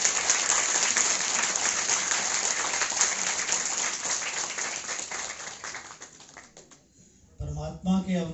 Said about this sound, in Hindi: तो इसलिए आप खूब जोर से तालियां बजा सकते हैं।